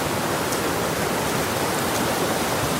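A river running low beside a house, heard as a steady, loud broadband rush of flowing water with no breaks and no voices.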